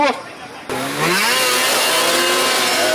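Stock 800 class snowmobiles launch in a hill drag race at Edelweiss, Quebec, with engines rising from idle into a loud, sustained, climbing roar, while an announcer speaks over them.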